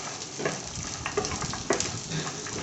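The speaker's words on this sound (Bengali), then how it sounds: "ঘিয়ের মধ্যে এই ড্রাই ফ্রুটগুলো আমি সামান্য ভেজে নিচ্ছি।" Dry fruits frying lightly in melted ghee in a pan, a steady soft sizzle with small bubbling crackles and faint stirring scrapes, close and fairly quiet.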